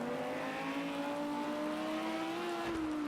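GT3 race car engine in a racing game at Sugo revs steadily upward in pitch, then drops sharply as it shifts, loud and continuous without speech.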